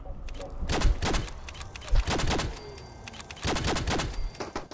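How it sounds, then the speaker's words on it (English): Rapid volleys of gunfire from several weapons crackle through a firefight in Fallout 4 VR, bursts clustering and overlapping over a low rumble, fairly loud and close. "What are you lot shooting at? Yep, there's a gunner."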